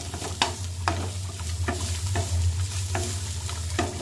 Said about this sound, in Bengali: এটাকে আমি একটু ভাজা ভাজা করছি।